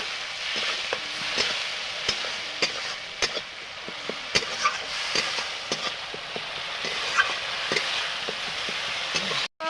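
Onion, chili paste and mustard paste frying in a pan for a fish dish, a close, even sizzle with regular sharp taps and scrapes of a spoon stirring against the pan, with no voices.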